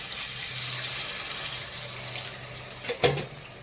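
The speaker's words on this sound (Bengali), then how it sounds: "এবার আমি জল দিয়ে দিচ্ছি" Water pours into a pan of spiced mince as a steady, moderately quiet stream, ending with a brief, louder splash.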